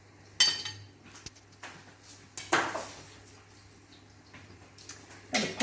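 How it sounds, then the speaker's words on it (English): Carrots and parsnips are stirred in a metal pan or bowl to coat them, with a few scraping clinks of a utensil spaced apart, fairly faint, with no talking. "Okay, give them a good stir around,"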